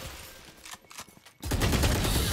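Gunfire in the video game Valorant: a few scattered shots, then a loud, dense burst of rapid fire that continues to the end.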